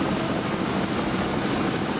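A helicopter in flight carrying men back to Camp Evans in Vietnam, 1970, a dense steady engine and rotor roar filling the whole clip at constant loudness, with no voices.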